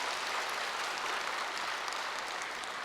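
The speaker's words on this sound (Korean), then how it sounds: "큰 박수를 좀 한번 보내주시면" An audience at a stage talk-show event gives a monk steady, sustained applause. The dense clapping stays even throughout without voices.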